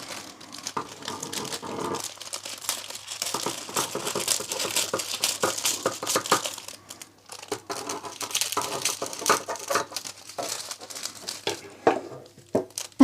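Continuous crisp crinkling of cellophane being handled and turned over before cutting for gift wrapping, close and busy, with brief quieter gaps and no talking.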